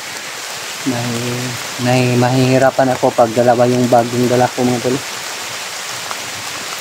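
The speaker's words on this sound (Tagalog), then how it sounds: "sobrang lakas ang ulan" Heavy rain pours down in a continuous broadband hiss that stays steady throughout, while someone talks loudly over it in the foreground.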